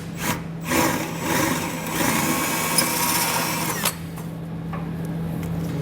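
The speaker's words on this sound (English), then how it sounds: "you just drill out the center, so use a drill bit, you know, somewhat bigger than the middle of the rivet." A power drill bores out the centers of rivets holding a heat shield on a 2020 Nissan Altima during a trailer hitch install, a steady whirring grind lasting several seconds at close range with a constant motor hum.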